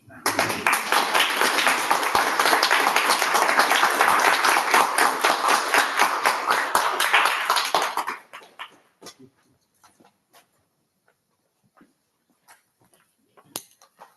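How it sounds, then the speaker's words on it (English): An audience at a poetry reading breaks into loud, dense applause for about eight seconds, then it cuts off abruptly, leaving near-silence with a few faint scattered knocks and rustles. "Got carried away clapping."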